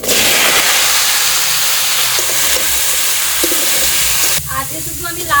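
Bottle gourd pieces hiss and sizzle loudly in oil left over from frying rohu fish, a dense, steady crackle that drops to a softer bubbling near the end.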